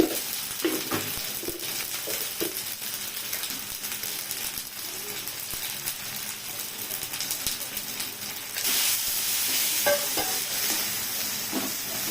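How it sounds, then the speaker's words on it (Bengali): Soybean chunks sautéing with ground spice paste in a pan for a soybean and potato curry, a steady close sizzle with stirring and scraping throughout that grows louder and brighter near the end. "সয়াবিনটাকে ভালো সাতলানো হচ্ছে"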